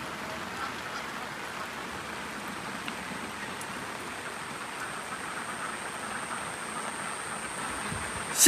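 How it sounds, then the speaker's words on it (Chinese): Steady rain falls over a farmyard after a stretch of 40-degree heat, an even, unbroken hiss with no talk that stays constant to the end. "终于下雨了哈"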